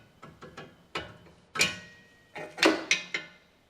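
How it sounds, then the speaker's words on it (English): A 19mm quick wrench works on the connecting nut of a sway bar link on a 2015 Ford Explorer, giving a run of sharp ratcheting clicks and clacks in irregular bursts, close up and clear with no talking. "Use a 19mm quick wrench to remove the connecting nut for the link and the sway bar"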